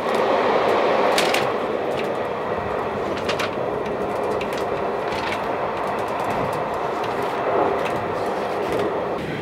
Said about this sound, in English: Notre célèbre train à crémaillère vous emmène à la découverte d'un paysage inoubliable.